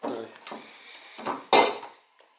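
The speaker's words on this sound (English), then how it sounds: "I'm scraping off the sides, excess flour, mix it down into the dough." A scraper works excess flour and dough off the sides of a mixing bowl in a few quick, close scraping and knocking strokes, the last one loudest.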